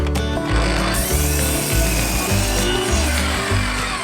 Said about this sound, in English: I'm gonna cut the beams, cut the angles for the frame